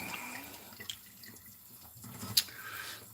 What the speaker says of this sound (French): je rince un petit coup ça